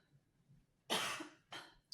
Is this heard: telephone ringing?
no